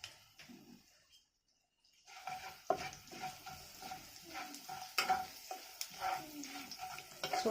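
Mustard seeds and asafoetida frying in hot oil for a five-spice dal, a steady crackling sizzle after a near-silent start, with occasional stirring clinks and pops close by, no talking.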